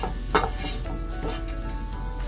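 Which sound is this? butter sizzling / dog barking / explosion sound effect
butter sizzling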